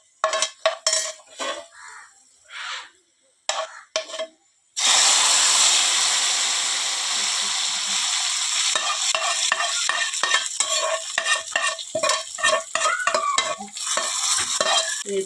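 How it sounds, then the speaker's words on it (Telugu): Hot tempering poured into a gongura dried prawn curry with the gas turned off erupts in a loud, sustained sizzle and hiss, followed by repeated scraping and clinking of a spoon stirring in the pot. "గ్యాస్ కట్ వేసుకొని ఇప్పుడు ఈ తాలింపు కూడా ఇందులో వేసుకుంటున్నాను."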